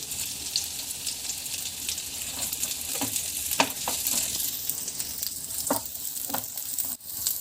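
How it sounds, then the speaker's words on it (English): Sliced onion frying in hot ghee for a Mangalore-style mutton sukka, giving a steady close sizzle with bursts of crackle and scraping stir strokes throughout, no talking. "So we are just adding the sliced onion here."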